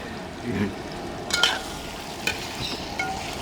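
Fish biryani masala sizzles steadily in a pan while a spoon stirs it, scraping and clinking now and then at close range, with no voices.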